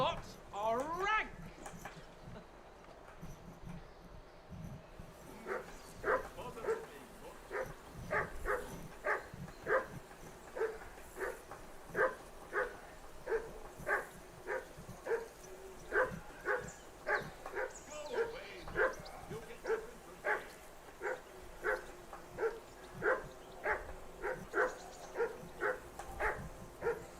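A dog in the medieval role-playing game Kingdom Come: Deliverance II barks in a long, steady rhythmic series of repeated yaps at moderate distance, over faint ambient background and brief talk near the start.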